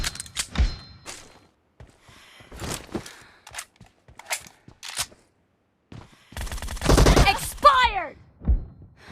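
Bursts of gunfire from the battle-royale video game PUBG during a one-on-one assault-rifle duel, loud clustered shots in short volleys with a sustained rapid burst near the end, alongside game voice callouts and reload clatter.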